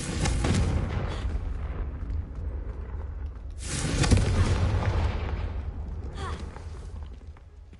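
Booming fiery blasts from the Confringo spell in Hogwarts Legacy, two loud bursts a few seconds apart, each a sharp crack rolling into a rumbling tail over a steady low game background.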